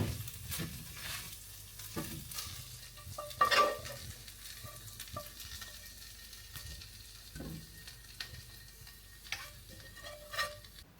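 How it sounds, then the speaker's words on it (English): Leftover food fries quietly in a pan, a faint sizzle broken by scattered ticks and scrapes of stirring, with no talking. "So now I'm going to fry this and then I will show you the result."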